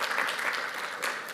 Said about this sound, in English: Give Mason another round of applause.